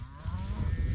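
Cattle low in a spring pasture of fresh forage, a single deep, sustained moo filling the short moment, close and loud with no talking.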